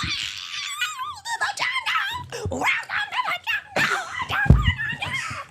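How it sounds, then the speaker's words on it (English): A dog yips, whines and barks in a rapid, excited series of high-pitched, wavering cries, close to the microphone with short gaps between them. "this is our dog Yodi."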